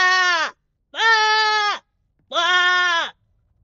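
Three long, loud nasal bleats in a row, evenly spaced with short silences between, a human voice imitating a goat in a video game.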